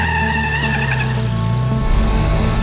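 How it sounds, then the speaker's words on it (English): A Volvo Iron Knight record-setting race truck roars toward the listener at high speed, its engine and tyre noise steady and loud throughout, swelling slightly toward the end as it closes in. "Here in the background, our truck's coming."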